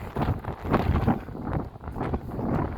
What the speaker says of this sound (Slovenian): Močno piha